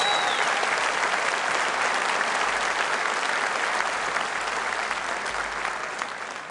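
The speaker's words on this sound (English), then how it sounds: "Give Richard Tice a round of applause." Audience applause at a political rally in Birmingham for Richard Tice, a loud, dense crowd clapping that runs unbroken for several seconds and fades slightly toward the end.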